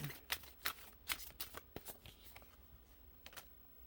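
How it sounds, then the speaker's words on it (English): Tarot cards being shuffled by hand, a quiet close series of crisp riffling snaps and slides, irregular and alone. "Let's pull some more cards for you."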